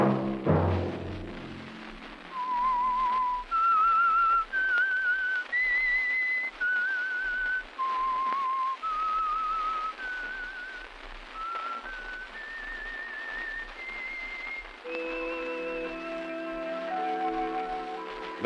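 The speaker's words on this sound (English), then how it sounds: "Let that whistle be your signal for the Signal Oil program, The Whistler" Whistled theme tune of The Whistler radio program, a lone clear melody of sustained whistled notes rising and falling in a slow eerie phrase, followed by orchestral chords at the end.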